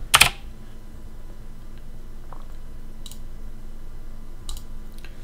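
Computer keyboard keys pressed while placing trading orders: a sharp burst of clicks at the start, then a few isolated soft key taps spaced out against a quiet background.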